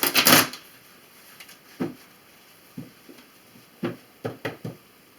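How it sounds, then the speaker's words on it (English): Tarot cards are shuffled close by in short bursts: a longer riffle at the start, then scattered sharp taps and flicks of the deck against a quiet background, with no talk. "one more shuffle and we'll cut your cards and begin"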